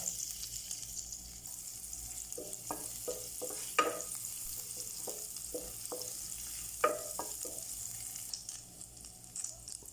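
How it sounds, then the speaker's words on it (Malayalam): Crushed garlic frying in 25 grams of butter in a pan for a tomato cheese pasta, producing a faint, steady sizzle with a string of light stirring taps and clicks in the middle. "ബട്ടർ ചൂടായി വരുമ്പോൾ വെളുത്തുള്ളി ചതച്ചത് ഇടുക"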